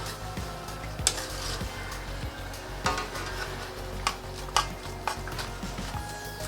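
Shrimp and bok choy stir-fried in a pan, a steady sizzle under scraping stirs and sharp clinks of a utensil against metal, close and alone.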